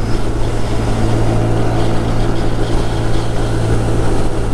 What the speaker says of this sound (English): The factory exhaust actually on this bike sounds a little bit different than the older generation Grom.